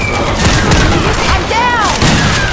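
Gunfire and heavy booms in the zombie shooter game Left 4 Dead 2 come in bursts of close, loud blasts, with players' voices talking over the action.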